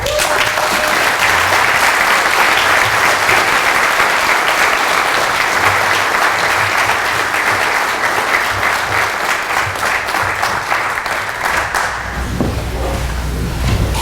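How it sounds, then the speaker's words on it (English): Loud, dense applause from an audience at a chamber of commerce annual meeting award presentation, continuous clapping that runs strong for most of its length before tapering near the end, with a low thump under the final moments. "We can keep clapping."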